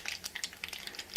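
Dry red chillies and tempering seeds crackle in hot oil, with sharp scattered pops and a light sizzle, close up, stirred for vegan brinjal peanut chutney, no talking.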